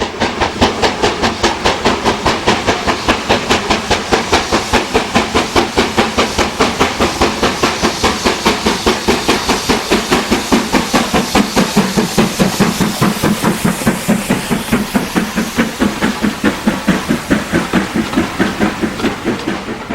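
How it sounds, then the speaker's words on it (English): Steam locomotive George Stephenson climbs a 1 in 49 gradient, its rapid, steady exhaust beats loud and continuous over a hissing, rumbling background for the whole stretch, with no voices. "George Stephenson passes Beck Hull on the 1 in 49 gradient"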